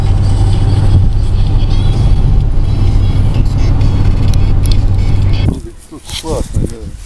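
A car drives along with a steady engine drone and road rumble under speech, loud and close, before the engine noise drops away near the end leaving quieter rustling.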